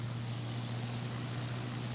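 Propeller engine of a Bf-108 Taifun aircraft in Microsoft Flight Simulator drones steadily at a low, even pitch with a constant hum, alone and unchanging throughout.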